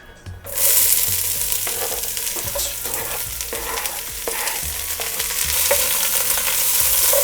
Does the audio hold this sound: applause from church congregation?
no